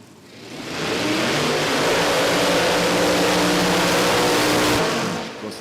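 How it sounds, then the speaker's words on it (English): A supercharged 426 Hemi drag car does a burnout at Sydney Dragway, its engine a loud, close, sustained roar that swells in quickly, holds for about four seconds and cuts off abruptly. "That unmistakable sound of the supercharged Hemi going through the burnout procedure here at Sydney Dragway"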